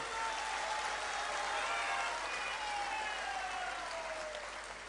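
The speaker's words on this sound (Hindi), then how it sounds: "जोरदार ताली बजा करके पूरे संस्थान को धन्यवाद दो।" A large crowd claps steadily at a big Hindu religious gathering, a Hanuman katha during a Vishnu mahayagya in Muzaffarpur. The applause is dense and continuous, sounds fairly distant, and fades slightly toward the end.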